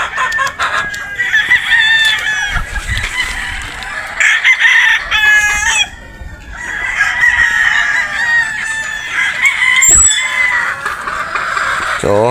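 Boston gamefowl roosters on a game farm in Batangas crow repeatedly, with long, loud, overlapping calls and scattered clucks from the flock all the way through.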